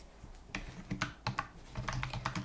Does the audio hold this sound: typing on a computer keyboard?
yes